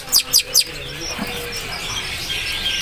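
Three quick, sharp calls from a drongo in a row at the start, then faint higher chirping in the background with no talking.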